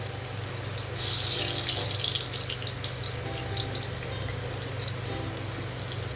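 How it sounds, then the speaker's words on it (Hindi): Chickpeas (chana) frying in oil on a slow flame, a steady close crackling sizzle that carries on without a break, with a low hum underneath. "और इसी तरह डाल के बिल्कुल हिलाना नहीं है, थोड़ा अच्छी तरह नीचे पकने देना है, यानी कि फ्राई करने देना है"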